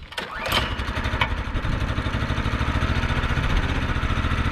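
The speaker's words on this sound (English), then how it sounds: "2-inch semi-trash pump. It runs really quiet and you barely have to crack idle with it." A small engine on a 2-inch semi-trash water pump coughs to life and settles at once into a loud, steady, throbbing idle, heard up close.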